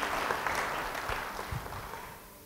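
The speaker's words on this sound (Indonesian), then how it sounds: "Yang percaya beri tepuk tangan pada Dia." A church congregation claps during a sermon, a dense spell of applause that gradually thins and fades toward the end.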